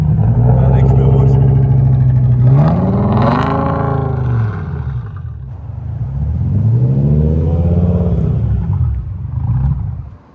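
BMW M5 E60 V10, newly swapped engine, rolled car, blue smoke and glowing catalytic converter, running rough: loud uneven engine roar rising and falling in two revving swells, with people talking over it.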